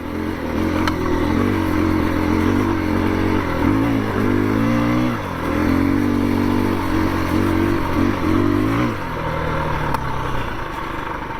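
2021 KTM 350 EXC-F dirt bike on break-in oil ridden through a logging area, a buzzing four-stroke engine rising and falling in pitch with throttle changes, loud and close with no talk.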